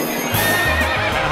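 A horse neigh sound effect plays on the stage of a televised masked singing competition, a single loud whinny with a clip-clop quality, close and clear, with no talk over it.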